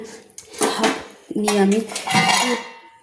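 Metal lid set down over a pan of papaya curry on the stove, giving loud clattering clinks of pots and utensils close by, with a voice speaking over part of it.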